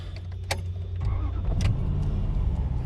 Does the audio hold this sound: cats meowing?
no